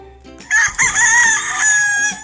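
A Blueface rooster crows once nearby, a loud drawn-out cock-a-doodle-doo lasting about two seconds, following a short cluck.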